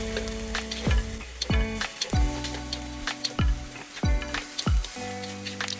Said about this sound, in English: Then we'll continue stirring and tossing so it won't stick to the pan